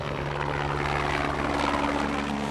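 A power line patrol helicopter flies overhead, its engine and rotor making a steady, loud, continuous drone that holds throughout with no voices.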